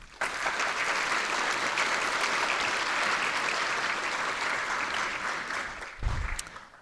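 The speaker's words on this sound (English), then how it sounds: "Cameron Tyring, Adam Westmoreland, let's give them a round of applause." A school audience applauds at a high school honors society induction ceremony, steady and full from start to finish, ending with a short low thump near the close.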